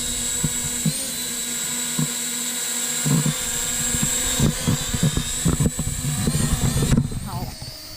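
An inexpensive $100 entry-level drone hovers nearby with a steady high-pitched rotor whine, while someone talks over it and a few clicks and handling knocks come through.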